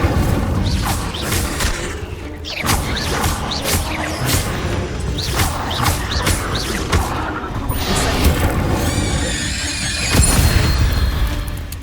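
The Incendio fire spell in Hogwarts Legacy bursts out during a loud combat sequence, with repeated whooshing flame blasts, crashes and impacts stacked over a busy game soundscape.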